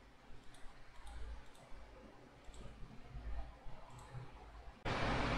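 A computer mouse button is clicked in a web browser, giving a few faint, light clicks over a quiet, hissy background. A sudden burst of broadband noise cuts in near the end.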